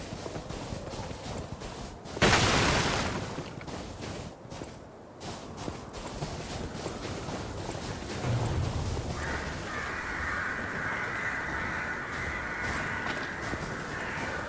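Crows caw in a gloomy area of the game Lies of P, several harsh calls over footsteps on stone, with a steady ambient drone building later on and no talk.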